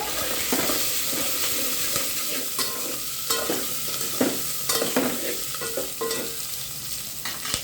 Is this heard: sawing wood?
no